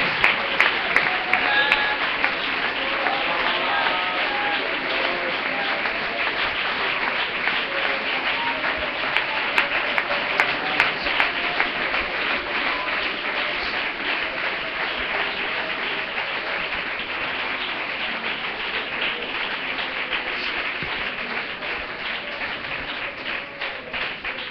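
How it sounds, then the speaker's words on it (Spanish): Church congregation applauds at length during a sermon, with a sustained, dense wash of clapping and crowd noise that holds strong and even throughout, plus occasional sharper claps near the front. "No se canse de aplaudirlo"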